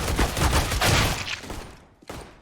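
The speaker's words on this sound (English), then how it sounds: "We do see shots ringing through." Rapid bursts of gunfire from an esports match in a tactical shooter game, loud, dense overlapping shots for most of the span, then a brief gap before one more burst near the end.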